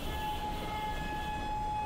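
A Garib Rath Express overtakes other trains on a Central Railway line, a loud, continuous rumble of wheels on track with a sustained steady horn tone held throughout.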